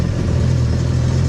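A Yamaha GP1800R WaveRunner engine idles with a steady, low, even rumble, close and continuous, no voices.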